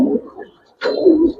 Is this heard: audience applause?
no